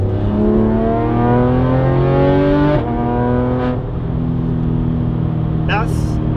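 A Porsche GT3 RS engine revving hard up close, its pitch climbing through a pull, dropping briefly, then rising again.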